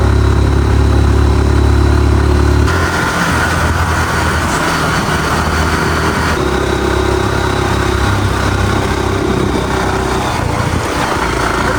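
A motorcycle idles loudly and close on a cold hilltop at Dhoje Danda in Nepal. The engine hums steadily throughout, and its pitch shifts slightly a few seconds in.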